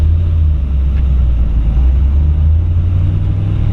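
Steady low rumble of a 1939 Ford Deluxe Tudor sedan with a 283 V8 while driving, loud and close, with a constant droning hum and no talking.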